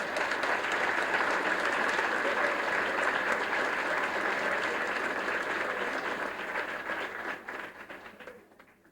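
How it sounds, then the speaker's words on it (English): Audience applause at a school banquet honouring fourth graders, dense sustained clapping from a room full of people that runs steadily for several seconds before tapering off and fading out at the end. "Let's give a special round of applause to all those fourth graders."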